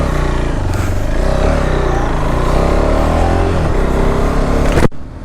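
A new motorcycle with a stock exhaust, ridden at a steady pace, gives a continuous, fairly loud engine drone that rises and falls slightly before cutting off abruptly near the end.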